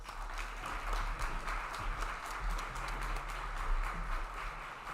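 An audience at a reception gives a round of applause, a faint and steady patter of many hands clapping in a room, heard at a distance with a low background hum.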